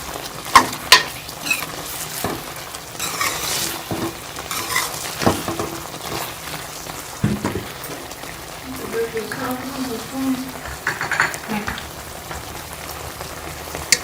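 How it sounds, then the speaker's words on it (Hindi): Fried chicken being stirred into a sauce in a pan for restaurant-style chicken Manchurian: scraping stirs and clattering knocks over a soft sizzle, irregular and close. A voice talks intermittently throughout. "अब हम इसमें ये फ्राई किया हुआ चिकन शामिल कर लेंगे"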